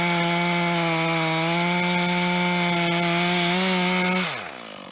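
A chainsaw cuts a large log into sections, its engine holding a loud, steady droning pitch before winding down sharply near the end.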